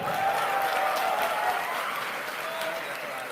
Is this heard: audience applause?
yes